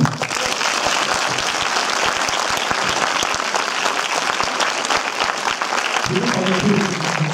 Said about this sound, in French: Merci, on peut applaudir.